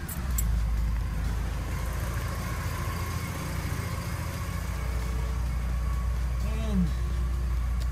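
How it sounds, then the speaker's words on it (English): The engine of a 1984 Porsche 944 runs at a steady idle, giving a constant low rumble with a brief rising whine near the end. Voices talk intermittently over it. "So I'm going to go ahead and start the car here."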